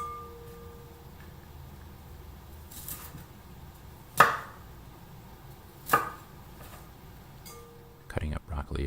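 Broccoli being chopped for a broccoli nori salad in a quiet kitchen, a couple of sharp, separate knife strikes on a board a second or two apart, then a quick cluster of cuts, under soft, quiet talking.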